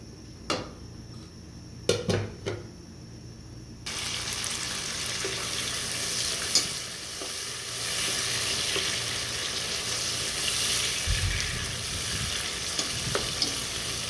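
Thin tomato slices dropped into hot oil for biryani: a few clinks and knocks at first, then a loud, steady broadband sizzle that continues to the end with occasional utensil taps.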